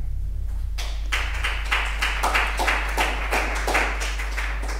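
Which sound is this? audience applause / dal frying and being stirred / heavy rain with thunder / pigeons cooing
audience applause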